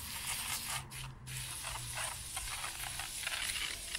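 WD-40 cleaning spray hissing steadily from an aerosol can onto a hedge trimmer, continuous and close, with faint mechanical clicks and no voices.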